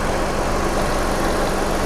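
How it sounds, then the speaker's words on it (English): Car engine idling while the radiator fan runs, giving a steady whirring roar with constant broadband rush close to the microphone and no talking. "the radiator fan is running right now"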